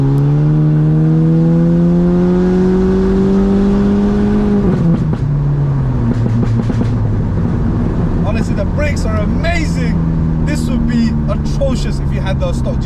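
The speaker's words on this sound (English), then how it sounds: "the pops and bangs you got, you can tell it's so artificial that it's coded in" A Stage 2 tuned 2000s VW Golf GTI MK5 drones under steady engine hum that drops as the throttle lifts, followed by a scatter of sharp crackling exhaust pops, with people talking over it inside the car.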